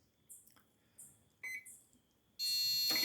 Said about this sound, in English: now you're getting that beeping sound that you're hearing